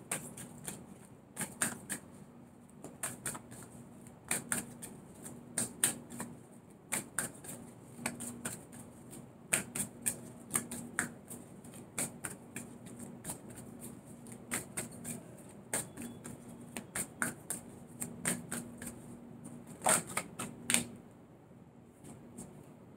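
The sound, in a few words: shuffling and drawing tarot cards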